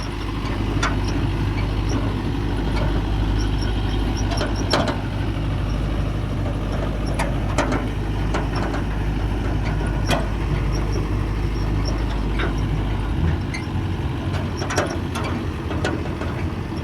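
A four-wheel-drive tractor hauling harvested paddy along a muddy road runs with a loud, steady engine drone, overlaid by rattling and clanking mechanical noise, with no talk.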